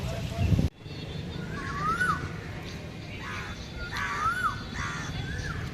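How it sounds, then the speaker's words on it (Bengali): Birds call outdoors in hilly country: several clear, rising-and-falling whistled notes repeat at intervals against a steady, low background hum, with one loud, sharp sound near the start. "এই যে পাখির ডাকগুলো খুব সুন্দর পাওয়া যায়"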